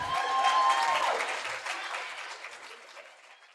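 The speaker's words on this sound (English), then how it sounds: "Everybody give a round of applause." Audience applause at a technology storytelling event, loud at first and gradually fading, with a brief tonal sound near the start.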